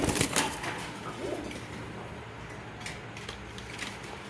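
Rajshahi Giribaz racing pigeons flutter and shuffle nearby, with soft sharp wing flaps and faint low cooing over a quiet background.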